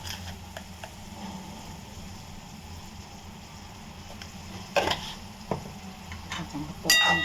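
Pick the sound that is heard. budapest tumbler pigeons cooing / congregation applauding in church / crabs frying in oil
crabs frying in oil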